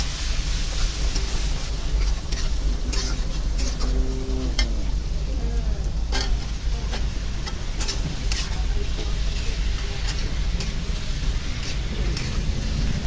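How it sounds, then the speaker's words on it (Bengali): Sliced onions sizzle and crackle in hot oil in a wok, a steady, loud frying hiss with scattered spatters and occasional stirring clatter throughout. "এদিকে আমি কড়াইটা বসিয়ে দিলাম, তেল দিয়ে দিলাম, পেঁয়াজটা দিয়ে দিচ্ছি।"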